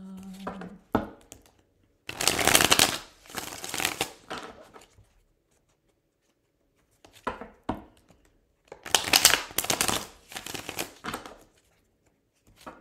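Two separate bursts of quick riffling tarot card shuffles, each a crisp papery flutter lasting a second or two, with quiet pauses between them.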